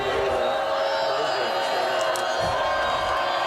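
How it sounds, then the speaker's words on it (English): Home fans in the stands at a Minnesota high school football game in Aitkin cheer in a steady, dense crowd roar during an overtime possession, with a few whoops rising above the sustained wash of noise. "Aken crowd getting into it on the right hash"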